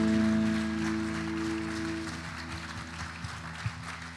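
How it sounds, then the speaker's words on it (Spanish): Church congregation clapping during a worship service, moderate applause under steady sustained organ or keyboard tones, tapering off toward the end. "Dale un fuerte aplauso al Señor"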